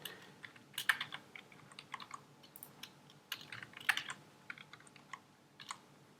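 Keys tapped on a computer keyboard while entering a password, an uneven run of light clicks with small bursts and brief pauses, fairly quiet and close, with no talking.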